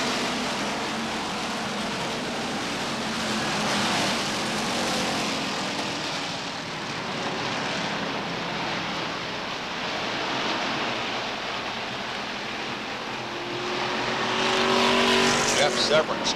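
Race cars roar around the oval at Beech Ridge Motor Speedway during a 1992 weekly race, a steady engine drone with one car sliding sideways out of turn 4, swelling louder near the end under continuous commentary.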